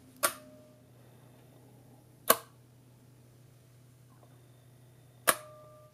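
A 12-volt electric door lock triggered by an RFID badge snaps open with three sharp, isolated clicks spaced a couple of seconds apart, each with a short ringing tail over a faint steady hum.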